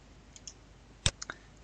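A few sharp, close keyboard clicks while someone types part of a name into a database program, with single isolated taps and a short cluster of quick clicks over quiet room tone.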